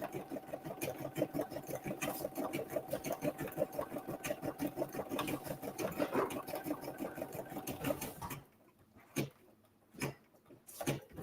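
An embroidery machine stitches a paper card with a fast, rhythmic needle chatter, steady and close for several seconds before stopping, followed by a few isolated clicks and knocks.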